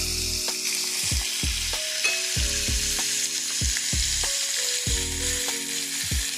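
Ground beef sizzles steadily in a skillet for a lasagna, a loud continuous frying hiss with a repeating low melodic tone running beneath it.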